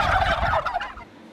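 A turkey gobbles once in a loud, close, rattling burst of about a second that trails off quickly, with no talking, at a turkey and chicken sanctuary in Stouting, Kent.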